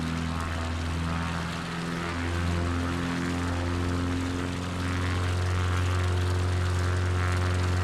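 Propeller aircraft engine in Microsoft Flight Simulator 2024, a steady droning hum with strong low harmonics that shifts pitch slightly midway, continuous and fairly close, with no talk.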